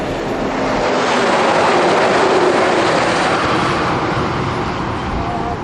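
A heavy road train truck roars past close by on a highway, a loud, broad rumble of engine and tire noise that rises and slowly fades.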